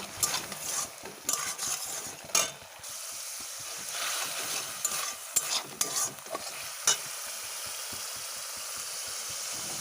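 A bay leaf sautéing in thick spiced masala in a pan: steady close sizzling with repeated scraping stirs and brief clattering knocks from the spoon, no voice.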